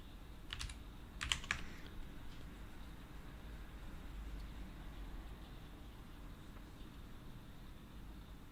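Typing on a computer keyboard, a few quick clusters of clicks early on, quiet and close, followed by faint low background hum.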